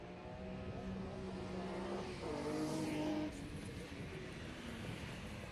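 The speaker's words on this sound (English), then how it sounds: "you can hear the the noise of that car. Mark Crespin's Cobra" Mark Crespin's Shelby Cobra RMC race car roars at the Historic Leyburn Sprints, a steady sustained engine drone heard at a distance with a brief rise in pitch midway, mixed with faint crowd and wind noise.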